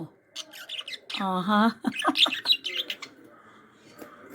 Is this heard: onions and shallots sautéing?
no